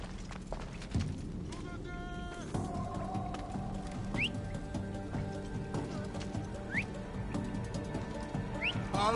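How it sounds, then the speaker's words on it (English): Whistling in Assassin's Creed Odyssey: a short rising whistle repeats three times at intervals, heard over steady game music with horse hooves clopping underneath. "That whistling really starting to piss me off!"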